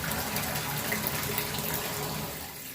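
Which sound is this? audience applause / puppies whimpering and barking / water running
water running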